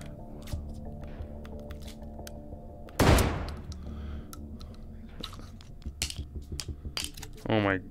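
Gunfire from the VR shooting game H3VR: one sharp, loud shot stands out against a steady mechanical hum, followed later by a few quicker, lighter cracks and clicks of handling.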